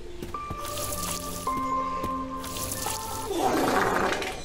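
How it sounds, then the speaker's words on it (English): Water pouring from a watering can onto plants in the horror game Gnome: soft drips and splashes, then a fuller gushing splatter toward the end, set against tonal ambient music. "Just having a nice day watering our plants"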